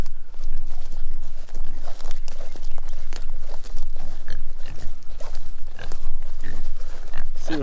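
Pigs on a farm approach when called, their trotting feet and low grunts forming a busy, continuous shuffle of movement that fills the whole stretch, heard close and fairly loud.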